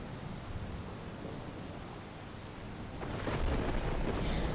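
Rain falls steadily along the Jafrabad coastal belt in Amreli, Gujarat, a constant hiss that swells louder partway through, with low rumbling beneath it and no voices.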